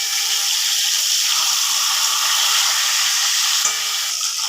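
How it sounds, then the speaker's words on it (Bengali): A catla fish head fries in hot oil seasoned with turmeric and salt, giving a steady, loud, bright sizzle with a single small pop near the end. "তেলের মধ্যে ছেড়ে দেবো কাতলা মাছের মাথা। তো মাথাটাকে খুব ভালো করে ভেজে নেব।"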